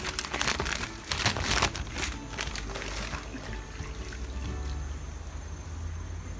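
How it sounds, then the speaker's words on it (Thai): Newspaper soaked in water being wrapped around a bag of crayfish for shipping, giving close, busy wet crinkling and rustling that eases off into a softer, steadier rustle. "ใครจะเอาหนังสือพิมพ์ไปชุบน้ำก่อนก็ได้ครับ แล้วค่อยมาห่อ"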